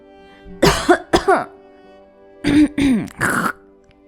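Throat clearing in a few harsh bursts, two early and three later, close and distinct against silence.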